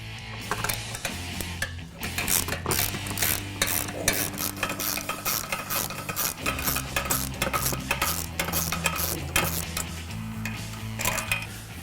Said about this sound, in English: First thing we're going to do is remove the two nuts from the body mount.